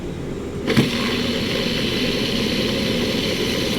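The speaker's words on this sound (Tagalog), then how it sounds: "So tingnan natin yung magiging uh, rotation ng ating motor." A three-phase electric motor running on a single-phase supply switches on with a brief thump, then holds a steady, loud hum with a constant drone and no talk.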